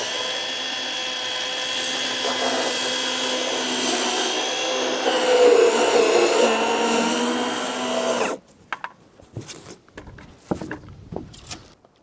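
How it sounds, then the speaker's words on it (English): A table saw slices through rigid foam board, a loud steady whine with a rougher surge mid-cut, close up, then the blade cuts off abruptly, leaving scattered handling clunks and taps. "a table saw will do you just right for this rigid foam"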